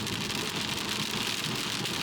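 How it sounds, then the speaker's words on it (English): Steady rain on the Scottish hills along the NC500 in winter, a dense continuous hiss with a low rumbling undertone, close and unbroken, with no talking. "The rain kind of gives it that dramatic feel."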